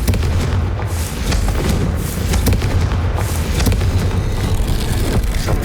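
A Confringo fire spell in the Hogwarts Legacy video game sets off loud, sustained booming explosions with repeated sharp bursts and crackle, dense and continuous throughout, with no talk.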